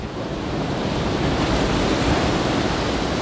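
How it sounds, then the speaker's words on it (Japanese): Ocean waves dumping hard onto Shonan Hiratsuka beach, a dense continuous roar of surf with wind noise, loud and unbroken. "かなり波はダンパーっぽいですね。"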